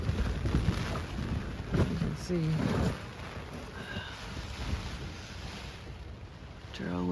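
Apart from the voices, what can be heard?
violent wind blowing against a tent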